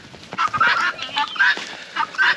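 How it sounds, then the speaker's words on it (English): Chickens cluck and squawk in short bursts close by, several birds calling in uneven clusters with brief pauses between. "Oh, birds."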